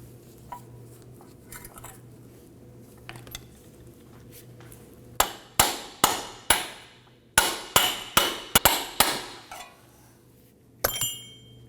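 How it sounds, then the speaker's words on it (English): A hammer striking a cup tool to press a ball joint into the front suspension of a 2003-2014 Volvo XC90, heard as a series of about a dozen sharp, ringing metallic taps, loud and close, with brief pauses between groups and no talking. "So we're going to go back to our cup and continue to tap this in."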